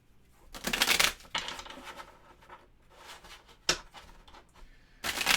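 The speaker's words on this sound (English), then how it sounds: "Shuffle that into the bottom of the deck." A deck of playing cards is shuffled by hand in several quick riffling bursts with short pauses between them, close and fairly quiet, with no talking.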